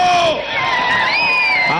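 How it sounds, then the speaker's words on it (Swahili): Large crowd at a Kenyan public celebration at State House roaring and cheering continuously, loud and sustained, with high shouts and whoops rising over the mass of voices. "Haya basi tuendelee kushangilia Wakenya"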